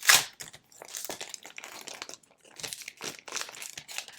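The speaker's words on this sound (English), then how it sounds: "The problem with doing these flip throughs and pulling it out of the packaging" A planner is pulled out of crinkly plastic packaging, giving close, loud bursts of crackling and crinkling that come in irregular handled rustles with short gaps, alone and without voices.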